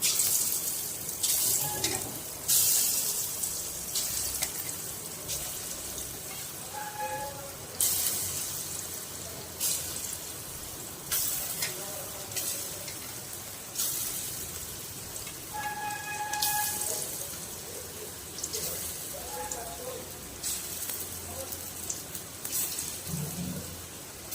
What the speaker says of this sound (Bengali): তেলটা গরম করে এক এক করে ভেজে নেবো। এগুলো এক এক করে দিয়ে দিচ্ছি সব।